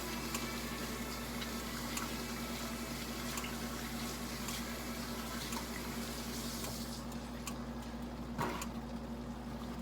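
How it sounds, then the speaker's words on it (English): Water runs from a sink tap in a home kitchen while hands are washed, a steady faint hiss with a low hum beneath and occasional small clicks, no voices. "let's go ahead and wash our hands up here"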